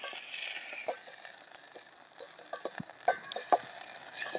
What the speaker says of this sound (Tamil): என்ன கொதிக்குதுங்க, கொதிக்குது கைஸ்